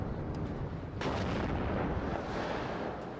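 Rocket artillery fire in the real-time strategy game WARNO, a dense, rumbling wash of launches and distant blasts that swells sharply after a second and keeps roaring steadily with no voices.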